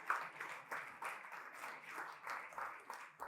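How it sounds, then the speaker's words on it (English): Audience applause at a storytelling slam event, a steady wash of many hands clapping, fairly faint and distant, with no talking. "One more round of applause for the change"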